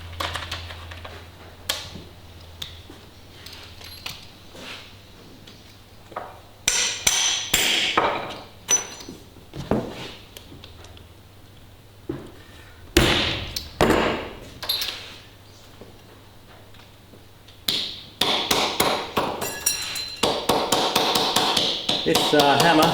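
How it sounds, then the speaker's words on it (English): A blacksmith's hammer sets copper rivets into a leather belt. Sharp taps land close and loud, first in scattered single strikes and then in quick clustered bursts, with quiet gaps between. "This hammer is one that my father gave me"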